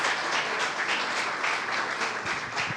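Church congregation applauding together during a worship service, a steady, dense wash of clapping that fills the whole stretch at moderate distance with no talk over it.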